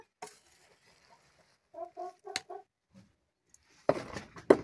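Soft clucking from a few chickens being fed a thick winter mash, with short scattered calls and a couple of sharper squawks near the end, fairly close.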